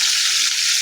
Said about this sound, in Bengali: এই চুলায় এঁচড়গুলো ভেজে নিচ্ছি